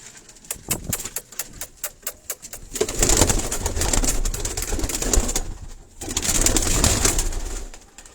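Sialkoti breed pigeons coo in low, throaty bursts close by on a rooftop, with a rattle of quick taps and fluttering at the start.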